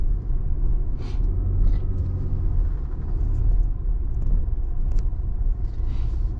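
A car rolls along a rough, bumpy road in Big Bend State Park, Texas, giving a steady low rumble with uneven jolts and rattles, close and continuous.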